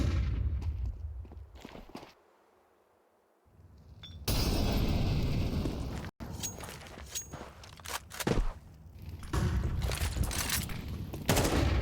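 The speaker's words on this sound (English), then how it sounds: "Throwing nades everywhere, leaving paiN confused" In a Counter-Strike 2 match, grenades burst and guns fire in scattered cracks and thuds, some near and loud, others distant, with a quiet lull early on before the action picks up again.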